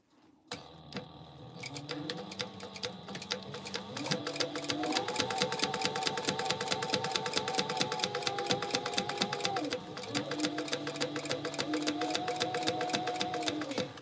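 Sewing machine top stitching a fabric tote bag, a fast, even mechanical clatter that runs at steady speed, pauses briefly, then resumes, close and alone without talking.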